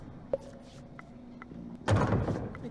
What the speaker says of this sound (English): Kick the damn door